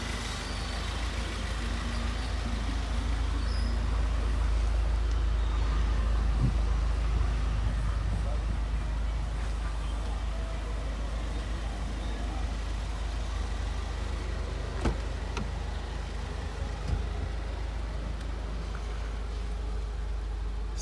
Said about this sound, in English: Car's up and running.